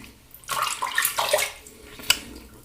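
Water splashes and trickles in short bursts as Meißner Tremonia Wild Oranges shaving paste is rinsed off a freshly shaved face, fairly close and with no talking.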